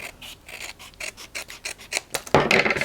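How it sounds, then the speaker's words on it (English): Close, crisp snips of scissors cutting paper for a small accordion-style mini book, a run of short rhythmic cuts ending in a louder, longer slicing stroke, no talking. "You bet I'm gonna cut it off."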